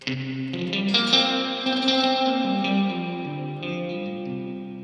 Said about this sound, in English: that sounds like those old springs overloading